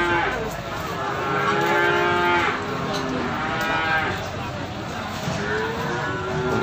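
Cattle and calves moo repeatedly at the Jetis cattle market in Ponorogo, East Java, with several long, close and distant calls overlapping above a busy crowd murmur and people talking.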